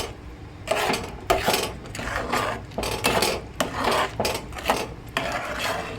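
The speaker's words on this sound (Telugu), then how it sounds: "ఇలా ఒక 10 నిమిషాలు తిప్పుకుంటా వండుకోవాలండి, మాడకుండా చూసుకోవాలి." Jackfruit halva being stirred in a pan at home, a rhythmic scraping and rubbing of spoon against pan repeating steadily, close and moderately loud, with no talk.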